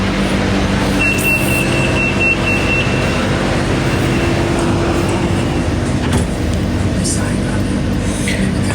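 Steady broadband rumble from inside a moving Bangkok skytrain carriage, with continuous rail and motor noise throughout and a brief faint whine early on, occasional soft knocks, and voices talking over it.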